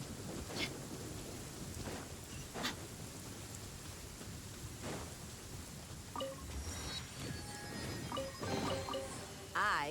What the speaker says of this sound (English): Man, this thunder is loud.